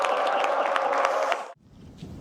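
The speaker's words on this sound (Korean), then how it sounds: "이렇게 만들어주신 대통령님께 박수 한번 우리 부탁드립니다" An audience applauds the president at a public event, a dense burst of clapping that cuts off abruptly after about a second and a half, leaving faint room noise.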